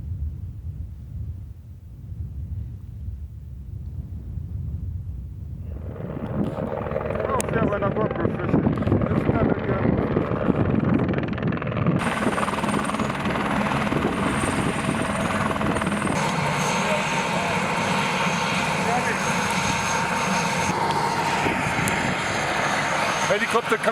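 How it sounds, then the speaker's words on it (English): A rescue helicopter flies in from Arusha on Kilimanjaro, its low rotor thump present from the start and swelling into a loud, steady roar of engine and blades as it comes close and stays overhead. "Helicopter coming from Arusha"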